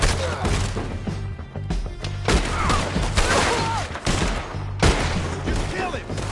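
Rapid bursts of gunfire in the Red Dead Redemption II video game, loud, dense shots layered with music and thuds, with voices speaking over the action.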